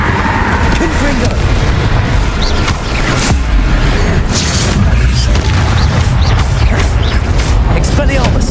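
Repeated explosive blasts from a fire spell in the Hogwarts Legacy game land amid dense, continuous booming combat noise, loud and close, with a voice heard intermittently over it.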